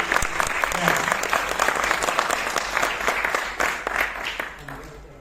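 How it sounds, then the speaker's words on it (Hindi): A large audience at the opening of the Gatha Mahotsav 2024 festival at IIT Kanpur breaks into sustained, dense applause, loud and steady throughout with scattered sharper claps. "आप सबकी थोड़ी सी तालियां एक बार उठें, मुझे आदेश दीजिए।"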